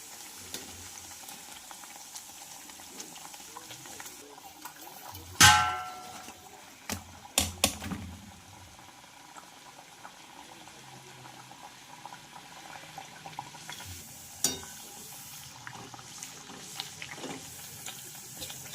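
Sweet pumpkin puris (gharge) deep frying in hot oil, a soft steady sizzle with a few sharp bursts of bubbling and clatter as dough is added or stirred.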